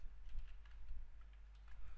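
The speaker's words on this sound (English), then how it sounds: "here I'm just typing that" Soft, rapid clicking of keys on a computer keyboard, a steady run of light taps at low volume, close by and alone with no voices.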